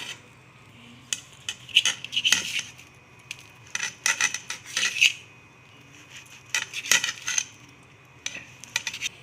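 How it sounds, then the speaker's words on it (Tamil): A knife cuts bread into small even pieces. Clusters of close metallic tapping and scraping against a plate or board come in irregular bursts with short pauses between, and no talking. "ஒரே ஷேப்பாக வர்றதுனால நான் கட் பண்ணுறேன்."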